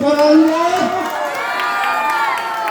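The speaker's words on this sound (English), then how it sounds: "Okay, give a big round of applause for them." Cheering and shouting from an audience of children at a school celebration day, a loud burst of voices and whoops that stays at an excited, steady level throughout.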